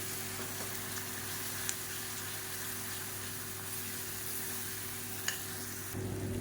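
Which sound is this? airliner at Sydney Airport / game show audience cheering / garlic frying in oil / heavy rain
garlic frying in oil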